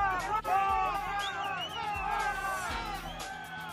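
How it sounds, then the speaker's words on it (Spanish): Traders in the popular El Hueco market area booing and shouting insults as a crowd, a dense roar of raised voices and whoops close by that holds loud throughout. "La imagen es de abucheos de comerciantes del sector popular El Hueco"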